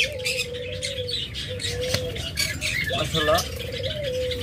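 Caged pet birds, a breeding pair of budgerigars or lovebirds kept with eggs, give repeated chirps and squawks close by, with a steady low hum behind them and a person speaking over the calls.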